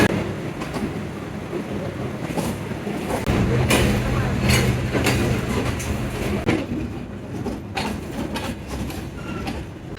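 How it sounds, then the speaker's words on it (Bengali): A passenger train pulls away from Khulna railway station and picks up speed, giving a loud, steady rumble with rattling and clicking from the carriages and a few sharper knocks, with no clear voices. "আর আমাদের ট্রেন ছেড়ে দিল খুলনা রেলওয়ে স্টেশন"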